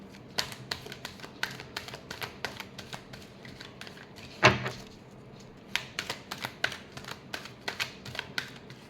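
Tarot cards being shuffled by hand: a run of quick, crisp riffling taps with a louder burst midway, close and fairly quiet, with no talking.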